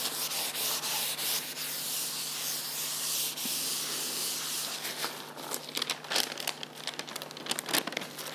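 Steady dry rubbing and crinkling as a tissue is rubbed over a sheet of newspaper laid on a wet portrait painting, continuous and close, growing more uneven with sharp papery rustles toward the end.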